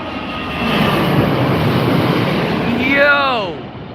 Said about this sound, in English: A very sexy Boeing 787 from Virgin Atlantic this evening.